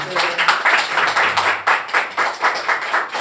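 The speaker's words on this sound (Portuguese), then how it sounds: "Uma salva de palmas para essa gentileza" An audience at a law symposium gives a round of applause, close clapping with distinct uneven beats throughout the whole stretch.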